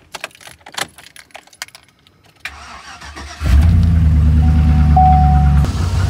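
Keys jangle and a few clicks sound before a truck engine cranks and catches, boosted by an Egwo 6000 amp jump starter, then settles into a loud, steady idle close by.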